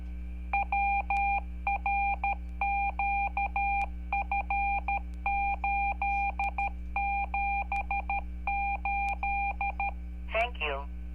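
DTMF tones keyed into a two-way radio repeater sound as a long, steady run of short, evenly spaced paired beeps over a constant low hum, with a brief voice near the end.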